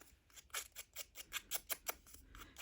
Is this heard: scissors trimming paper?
yes